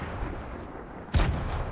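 Grenade blast in an online shooter match: a single short, muffled boom about two-thirds of the way in, rising out of a low game background hum with no talk over it.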